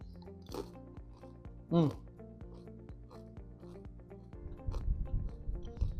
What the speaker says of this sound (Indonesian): Ini crunchy banget ya, kalau lo bisa denger